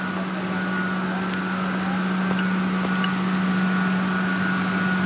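Steady electrical hum from what seems to be a power plant, a white building glimpsed through trees beside a river trail in the Ariège mountains; a constant low drone with faint higher tones, unbroken for the whole stretch.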